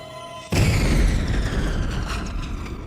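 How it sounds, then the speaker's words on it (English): A sudden loud bomb blast hits after a brief quiet moment, followed by a long rumbling roar and crackling debris that slowly fades. "The explosion was the most gruesome yet."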